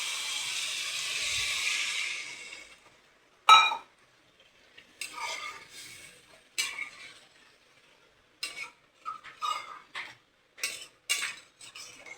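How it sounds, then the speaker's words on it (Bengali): Water goes into a pan of cooked-down masala for paneer curry, with a steady hissing sizzle for about two seconds. Intermittent spoon scrapes and clinks against the pan follow, with no voices. "এবার আমি জল দিয়ে দেবো।"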